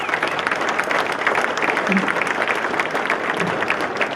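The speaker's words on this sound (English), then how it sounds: "all these people in the chamber, give them a round of applause." Steady applause from a large crowd, dense continuous clapping filling the space without a break.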